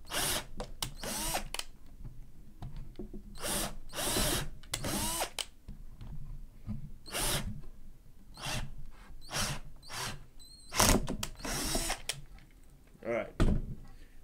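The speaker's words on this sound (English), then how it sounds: "I'm going to re-drill" A power drill bores into wood in a workshop while building a puppet stand, coming in repeated loud bursts of a second or so, separated by short pauses and handling knocks.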